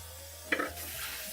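Cold water running from a kitchen tap during Thanksgiving cooking prep, a soft, steady hiss that rises in level as the flow continues, quiet and close with no talking.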